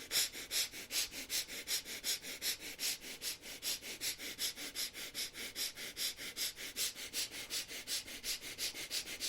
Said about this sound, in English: start breathing quick and short breath. Gentle breath from both the nostrils